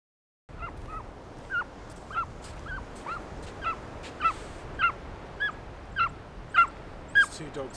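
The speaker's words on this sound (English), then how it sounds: "These two dogs love the beach." Two dogs barking on a beach, a steady series of sharp yips and barks roughly every half second, moderately close over a constant windy background.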